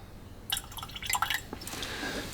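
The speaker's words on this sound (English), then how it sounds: "as soon as you pour the water in the glass, you see those flow marks in it" Water poured into a whisky glass for diluting a dram, heard as a short series of close, bright splashes and trickles that settles into a soft liquid fizz.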